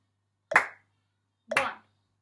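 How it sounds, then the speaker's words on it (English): Two crisp, close hand claps land exactly one second apart on the first beat of a counted pulse, each sharp and short, with silence in between. "I only want us to clap on 1."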